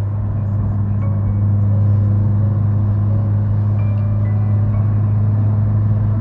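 A car at about 160 km/h right after hard braking on a suspension test drive, its engine and road noise holding as a loud, steady low rumble from inside the cabin.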